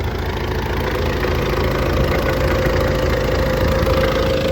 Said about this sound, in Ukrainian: В моторі щось тарабане вже.